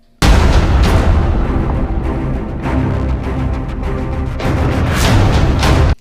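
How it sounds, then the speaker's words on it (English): A tuned downer effect in a produced electronic track, a loud booming sweep that swells in, holds dense and full, then fades and thins out toward the end. "You can actually hear how when this downer starts to decrescendo out"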